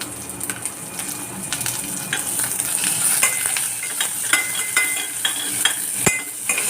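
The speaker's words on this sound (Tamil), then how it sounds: "நம்ம வந்து எண்ணெயில் போட்டு அதில் வதக்கிட்டுருவோம். இதோடைய வெங்காயம் போட்டுக்கங்க." Onions sauté in hot oil in a pan, making a continuous close sizzle broken by frequent scraping and clinking stir strokes, with no talking.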